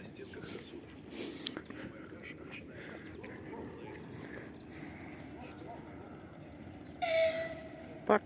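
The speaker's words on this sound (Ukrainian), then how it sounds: "через 8 хвилин з'явиться потяг, от він зараз з'явиться" The Dnipro–Truskavets passenger train arrives at a station outdoors with a low continuous rumble, a brief horn-like tone near the end, and background murmur of people.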